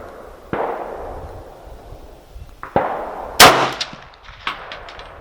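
Ruger Mini-30 rifle fired outdoors at a target: sharp, loud cracks ring out several times at uneven intervals, each with a short echoing tail, with no talking in between.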